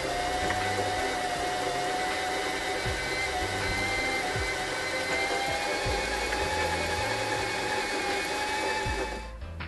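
A Kreshay sewing machine runs steadily to wind a bobbin, a loud close whirring hum with a bright motor whine and small shifts in speed, easing off at the very end.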